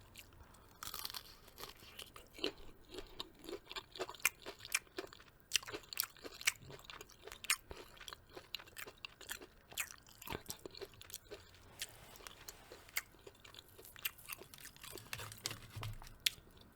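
Close, crisp crunching and chewing of fried Popeye's chicken tenders, with irregular bites and crackly chews repeating steadily throughout, alone with no talking.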